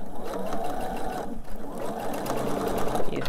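A sewing machine slowly stitches fabric seams, a steady close mechanical whir with soft rhythmic needle pulses running throughout.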